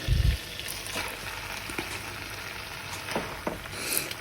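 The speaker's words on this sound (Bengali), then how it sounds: "মশলা থাকলো ওর মধ্যে আমি লাউ শাকগুলি দিয়ে দিচ্ছি" Bottle gourd greens hit hot spice paste left in the pan after frying fish, giving a soft, steady frying hiss with faint scraping and stirring taps, close and quiet, with no talking.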